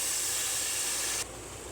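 A loud burst of hissing sizzle as half a glass of water hits a hot pan of spices for chicken liver gravy, cutting off abruptly and leaving a quieter steady hiss.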